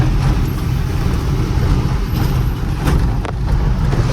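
Steady, loud road traffic in Pune with a continuous low rumble of cars and heavier vehicles close by, a few faint higher passing sounds on top and no speech.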